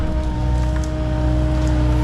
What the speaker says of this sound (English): with that exhaust fan on.